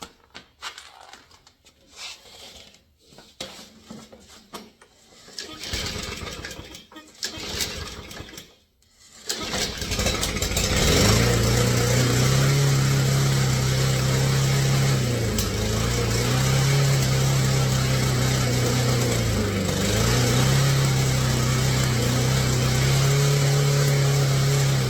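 A Briggs & Stratton lawn mower engine, freshly fitted with a new shear pin and a cleaned carburetor: several rough cranking attempts, then the engine catches and runs on loud and steady, its tone wavering slightly, with no talk.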